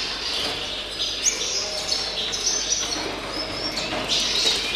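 A small bird held in a hand at a championship event coos softly, with brief bursts of wing flapping over a steady, noisy background.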